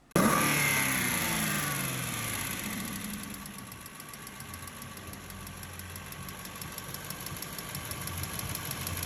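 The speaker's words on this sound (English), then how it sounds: "the ticking sound is cyclic, it's repetitive, it's always there" Aston Martin V8 idling after starting, a steady low engine hum carrying a fast, repetitive metallic ticking that persists throughout, close and moderately loud, with no voices.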